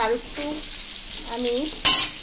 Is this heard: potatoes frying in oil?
yes